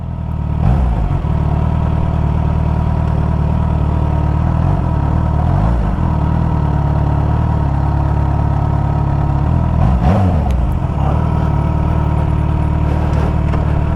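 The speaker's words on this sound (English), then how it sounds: "oh, the Lotus. I think it's an Evora or something like that" A Lotus Evora sports car engine at a car club gathering runs loud and close, a steady throaty drone with a few short rises in pitch, no voices over it.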